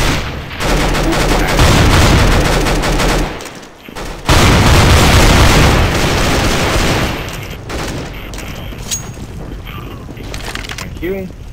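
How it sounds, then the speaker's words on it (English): Counter-Strike: Global Offensive firefight on PS3 with loud, dense bursts of gunfire and a heavy blast, broken by a short lull, then continuing shots that fade out under a voice near the end. "Grenade out!"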